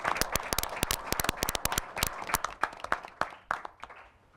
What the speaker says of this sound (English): So if we could give Jim a round of applause, and Bobby as well.